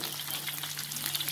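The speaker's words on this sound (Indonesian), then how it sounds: "Tumiskan bawang merah ya." Shallots sauté in hot oil with cumin, fennel, cardamom and curry leaves for a Malaysian chicken curry, giving a steady, close, bright sizzle with a faint low hum underneath and no talking.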